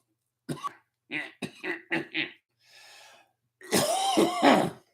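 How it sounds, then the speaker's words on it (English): A man coughs a bunch in a quiet room, several short separate hacks followed by a harder, raspy fit, close and clear. "Thought I'd just cough a bunch"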